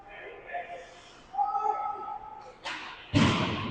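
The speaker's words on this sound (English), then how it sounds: "Sends it hard off the boards." An ice hockey puck slams hard off the rink boards during an 18U game, two sharp thuds rising over arena noise and commentary.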